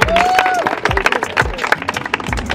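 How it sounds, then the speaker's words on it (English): A small group claps and cheers briefly, with a whoop and some scattered shouts over the applause. "let's give a round of applause to Zay and Jalen."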